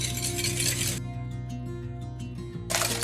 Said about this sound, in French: Je fouette un peu.